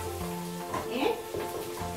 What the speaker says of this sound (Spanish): Sofrío bien la cebolla